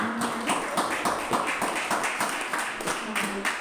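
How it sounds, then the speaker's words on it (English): Applause at a community listening session, a small group clapping steadily in repeated taps at moderate distance, fairly soft, with some talk underneath. "Thank you for a round of applause"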